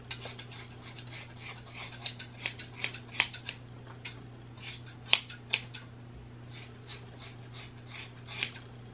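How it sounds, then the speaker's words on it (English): Craft scissors snip through human hair close by, a string of sharp, uneven cuts and rasps over a steady low hum, with no talking. "Craft scissors."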